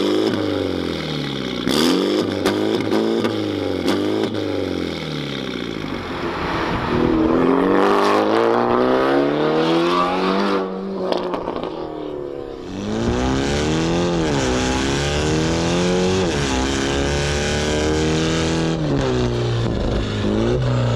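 A 400bhp Mini GP3 race car engine cranks, catches and fires up, then is revved hard again and again with rising and falling howls, loud and close, settling into a rough, rumbling idle between blips.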